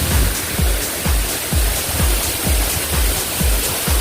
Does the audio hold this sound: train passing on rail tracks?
no